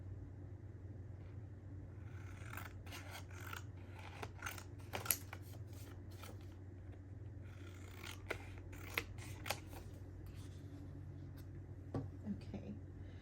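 Scissors snipping through paper scraps for junk journal pages, with repeated close crisp cuts in uneven bursts over a low steady background hum.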